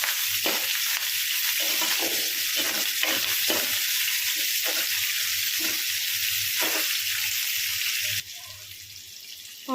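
Whole spices sizzle in hot oil in a pan for vegetable biryani, a continuous close, bright frying hiss with intermittent stirring scrapes, dropping slightly quieter at the end.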